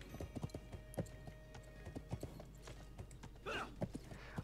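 A horse in the video game Blood of Steel clip-clops along at an even gait, repeated hoof strikes in a steady rhythm, close and clear, with a brief whinny-like burst partway through.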